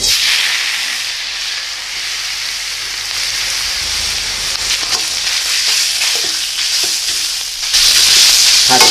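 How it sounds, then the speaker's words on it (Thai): Preserved radish (chai po) stir-fried dry in a pan, a loud steady sizzle and hiss with scattered scraping stirs, growing brighter near the end, close up with no voices. "แล้วก็ลงผัดเลยนะครับแบบนี้ลงไปเลย"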